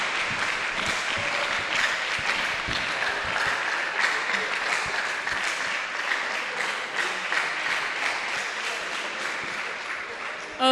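A roomful of people applauding steadily, a dense even clapping that continues at the same level throughout.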